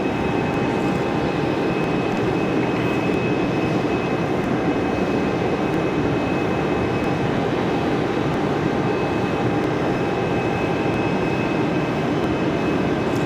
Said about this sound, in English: The 787 Dreamliner here of Air France coming in late due to technical issues earlier today there in Paris.